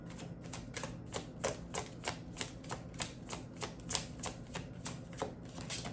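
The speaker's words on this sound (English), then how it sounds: "I'm going to pull a few more cards." Tarot cards being handled and drawn from a deck, a steady run of crisp papery snaps and taps repeating about twice a second, close and fairly quiet with no voice.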